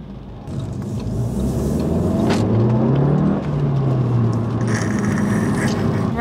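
Interior cabin sound of a new Audi A1 S1 on the road, a steady engine and tyre rumble with a rising and falling rev sweep midway, plus faint clicks and rustles inside the car.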